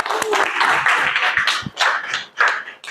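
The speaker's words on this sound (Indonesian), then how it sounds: "Tepuk tangan dulu untuk Lydia" A small classroom group claps for a student, uneven bursts of hand claps that swell and fade in short waves, fairly close and with a few sharp single claps standing out.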